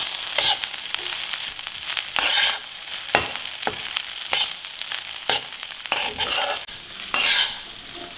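Egg rice being stirred and tossed with chopped coriander in a hot pan, a steady sizzle broken by repeated scraping, clattering strokes of the spoon at an uneven rhythm, close and loud with no talking.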